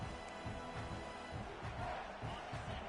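Stadium crowd at a video game American football match: a steady, faint roar of many voices rumbling continuously in the background without any sharp peaks.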